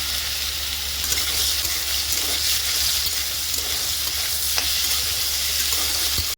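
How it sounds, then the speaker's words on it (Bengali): Chopped vegetables hit hot oil with nigella seeds, giving a loud, continuous rain-like sizzle that holds evenly throughout, with faint stirring underneath and an abrupt stop at the end. "এবার কেটে ধুয়ে রাখো সবজিগুলো দিয়ে দিলাম"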